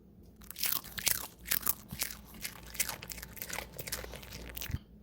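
Close crunchy biting and chewing of smoked jerky, with repeated sharp crisp bites and chews that come in an irregular rhythm, clear and alone.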